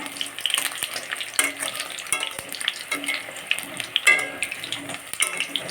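Barula fritters fry in oil in a pan, producing a continuous crackling sizzle with scattered pops and a few sharp utensil clicks, close and moderately loud, with no speech.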